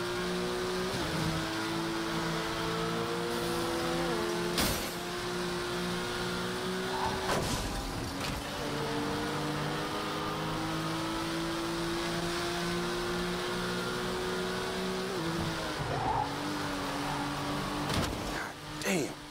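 A car drives on a cargo ship in the game Fast and Furious Crossroads. Its engine drones and climbs through several gear changes, with sharp clunks and impacts between them, and speech comes in at times.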